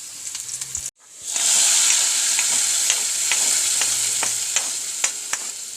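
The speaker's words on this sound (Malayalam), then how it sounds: "ഉള്ളി മൊരിഞ്ഞു വേപ്പിൻ്റെ ഇല ഇടണം" Onions and curry leaves drop into hot oil in a pan, bursting into a loud, sudden sizzle that keeps going steadily, broken by light stirring clicks.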